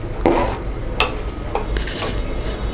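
Chopped tomatoes tipped into a pan of frying prawns, a few metallic clatters and scrapes of a spoon against the pan over a low steady background hiss.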